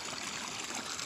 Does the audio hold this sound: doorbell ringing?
no